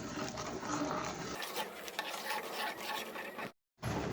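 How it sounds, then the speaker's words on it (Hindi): Sugar and cardamom powder stirred into milk in a pot, a soft continuous swishing stir with faint scraping against the pan, close and fairly quiet, cut by a short silence near the end. "अच्छी तरह से दोनों चीज़ों को मिक्स कर लूँगी मैं"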